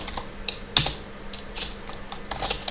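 Java code is typed on a computer keyboard, with soft, irregular key clicks at close range. One louder tap stands out among them, and no one speaks.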